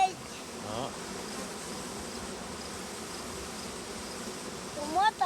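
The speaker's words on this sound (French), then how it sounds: "Regarde les abeilles ici, là." Honeybees hum in a steady, dense buzz around a hive frame holding brood, close and continuous, with individual insects flying past the microphone near the end and a few brief voices underneath.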